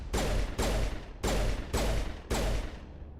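Pistol fire in the video game Mass Effect 3: five loud, evenly spaced shots, each a sharp blast with a short ringing decay, heard alone without talk.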